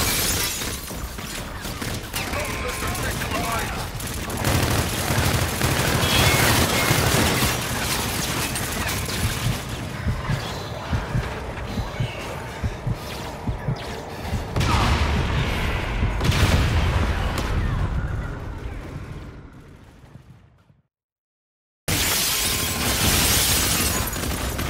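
In Call of Duty: Infinite Warfare, an aircraft gun run unleashes a long, loud barrage of gunfire and booming impacts that stops abruptly in a brief silence, then starts again.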